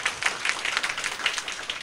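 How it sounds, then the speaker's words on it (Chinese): Audience applause at the closing ceremony of a Taiwan (civil) government senior administrative counsellors' class: a crowd of scattered hand claps rolling steadily for about two seconds at moderate loudness, with no voices. "我们再次以热烈的掌声谢谢秘书长。"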